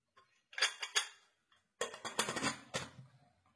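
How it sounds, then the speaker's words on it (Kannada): A pressure cooker lid is handled and closed in a home kitchen: a few light metallic clinks, then a louder cluster of clanks and scrapes as it seats, close and with no talk. "ಇವಾಗ ಲಿಡ್ ಮುಚ್ಚಬೇಕು."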